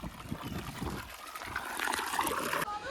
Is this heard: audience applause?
no